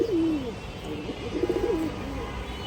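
Pet pigeons cooing near at hand, a few low rolling coos in a row over faint background noise.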